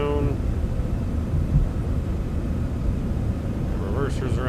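A Citation X jet's thrust reversers roar after touchdown in Microsoft Flight Simulator 2024, a steady, loud, low engine rumble with speech heard at the start and end.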